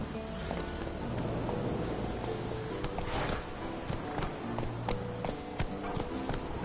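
Roach, the horse in The Witcher III, clip-clops along with rhythmic hoof beats, close and steady, over a soft bed of rain-like ambience and faint background music.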